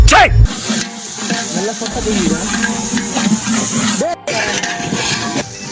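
Tomatoes with ginger garlic paste sauté in a pan during biryani preparation, giving a loud, steady hiss and sizzle while people talk over it.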